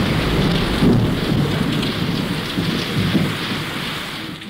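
Torrential monsoon downpour in Rajasthan: dense, loud, continuous rain roar with low rumbling thunder beneath, steady throughout with no voices.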